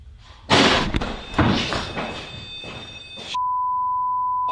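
A few heavy thuds and bangs, like a door slamming, followed by a steady electronic beep tone.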